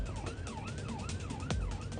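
An ambulance siren wails in a rising and falling pattern on the way to a critical call, loud and steady over heavy road and engine rumble, with a brief sharper blip midway.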